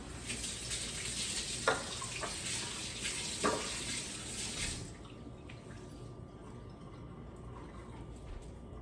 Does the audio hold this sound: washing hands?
yes